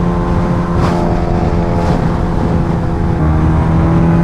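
A Kawasaki H2R motorcycle on a new gearing setup roars at full throttle in a high gear, a loud, continuous, close engine drone holding steady and slowly climbing in pitch.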